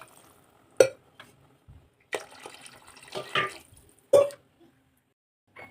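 Water is poured from a jug into a cooking pot for field-bean pulao in a few separate splashing bursts with quiet pauses between them, close by and alone.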